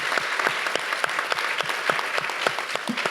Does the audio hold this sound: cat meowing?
no